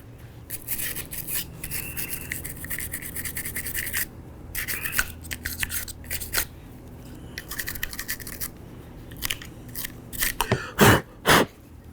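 A brush scrubs dry carbon buildup off the lower frame of a Smith and Wesson M&P Shield 9mm pistol, close, quiet bristly strokes in repeated bursts with short pauses, ending in a few louder scrapes.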